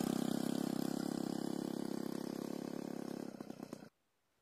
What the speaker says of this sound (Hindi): पैडल मार के आप इसका क्लच छोड़ेंगे तो साइकिल स्टार्ट हो जाएगी और इसका आप साउंड सुन सकते हैं।